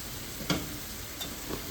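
Mango pickle mixture being stirred in a pan, a soft continuous sizzling scrape with a couple of brief louder scuffs of the spoon, close and without talk.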